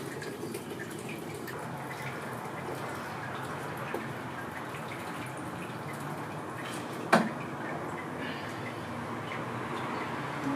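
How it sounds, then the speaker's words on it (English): Sparge water for an American IPA brew day, 19 liters poured through a spout into a vessel, giving a steady, continuous splashing stream at close range with one brief knock partway through. "I'm going to start going ahead and putting in my 19 liters of sparge water"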